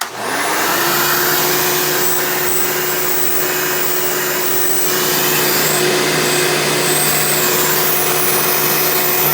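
A Hoover Elite 350 vacuum cleaner, factory rebuilt, runs loud and steady close by, holding one continuous motor drone with a constant whine throughout.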